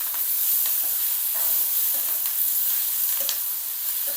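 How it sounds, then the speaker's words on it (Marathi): Onions and tomatoes sautéing in a pan for a peanut curry, with a steady bright sizzle and occasional stirring scrapes and clicks of a spoon against the pan, close up and alone. "परतून घ्यायचं।"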